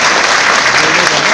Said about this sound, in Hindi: एक जबरदस्त ताली चाहूंगा अपने अपलाइन के लिए, मिस्टर परविंदर कुमार और चंदन राजपूत के लिए।